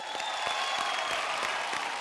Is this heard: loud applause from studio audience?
yes